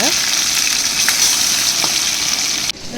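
Chicken pieces deep-fry in oil with a loud, steady bubbling sizzle and a few sharp crackles, close by, cutting off abruptly just before the end.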